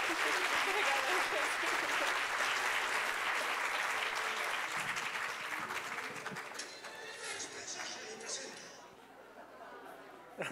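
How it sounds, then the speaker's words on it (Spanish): Audience applause at an educational technology event, loud and sustained at first, then thinning out toward the end with a little crowd chatter underneath. "Aplauso, por favor, muchas gracias."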